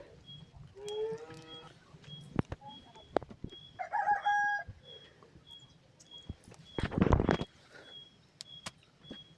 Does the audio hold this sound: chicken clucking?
yes